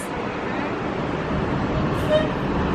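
A bus pulls up at a resort bus stop at a Walt Disney World hotel, its engine and road noise forming a steady, close rumble that fills the whole moment.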